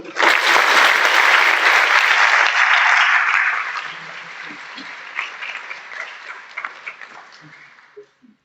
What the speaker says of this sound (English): Please join me in giving a hearty round of applause for Michelle and Antonia.